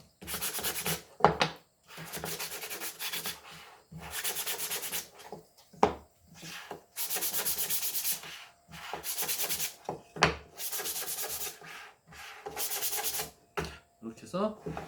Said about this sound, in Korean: 두 번째 장도 마찬가지로 결 방향으로 문질러 주시면 됩니다